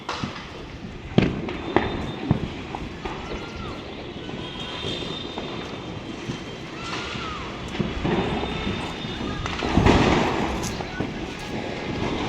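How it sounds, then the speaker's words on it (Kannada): Diwali firecrackers go off around a Bangalore neighbourhood after rain, scattered sharp pops and bangs at different distances with a louder cluster near the end, while a person talks over the festive din. "ನೋಡಿ ನೋಡಿ ನೋಡಿ ಪಟಾಕಿಗಳ ಅಬ್ಬರ ಶುರುವಾಗ್ಬಿಟ್ಟಿದೆ."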